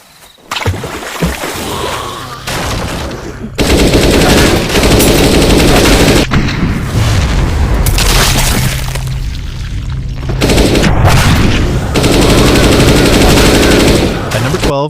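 Rapid gunfire from a fast-paced offline zombie FPS mobile game, Zombie Fire 3D: loud sustained automatic bursts with booms and shattering, near continuous with brief gaps.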